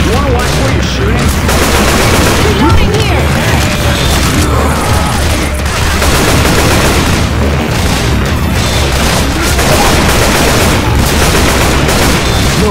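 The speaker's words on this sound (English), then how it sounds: "You wanna watch where you're shooting?" Dense, sustained gunfire from the zombie shooter Left 4 Dead 2 in single player mode, with rapid machine-gun bursts and booming blasts running loud and continuous throughout, cluttered by crashes and mechanical clatter.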